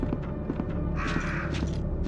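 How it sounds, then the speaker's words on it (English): Crows caw in Resident Evil 2, a burst of harsh calls rising over steady low rumbling background noise and faint footsteps, fairly close, lasting about half a second. "I forgot the crows."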